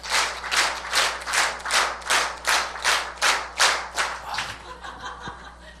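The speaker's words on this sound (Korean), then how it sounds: "하나님께 우리 영광의 박수를 한번 해봅시다." Ten sharp, evenly spaced hand claps from a church congregation, loud and in unison, fading into scattered claps and murmurs at the end.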